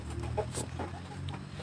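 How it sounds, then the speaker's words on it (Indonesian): Chickens kept in a pen alongside goats cluck in short, soft bursts over a steady low hum, fairly distant and faint, with no one speaking. "Ayamnya lagi pada diusir."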